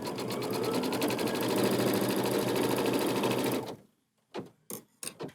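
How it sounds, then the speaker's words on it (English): An embroidery sewing machine tack-stitches a fabric triangle held in the hoop for a quilted fall leaves block, a fast steady mechanical whir that cuts off abruptly, followed by a few sharp handling clicks. "we're going to start the machine, and it is going to tack, stitch our triangle"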